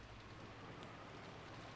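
Fierce rain falling in an enclosed courtyard in the visual novel game Umineko, a steady, dense hiss of downpour with no breaks, heard alone at a soft level.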